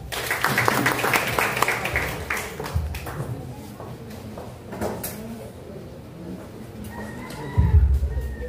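Crowd applause at a French student reflection and speaking contest, dense clapping for the first few seconds that thins out and fades, with a few bumps and knocks.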